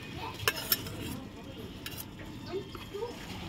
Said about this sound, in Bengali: দই দিয়ে নাড়িয়ে নেব